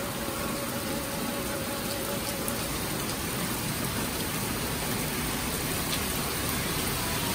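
Heavy rain falls in a dense, steady hiss throughout, close and unbroken, with no talking.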